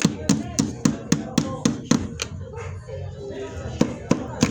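Rapid, sharp blows from a real hammer strike a hard toy about a dozen times in a quick, uneven rhythm, close by, with talking underneath.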